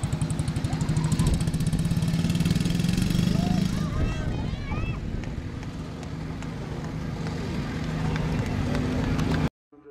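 A classic scooter's engine runs at an outdoor classic car show, a steady low buzz that loosens toward idle midway. Bystanders talk over it and the sound cuts off abruptly near the end.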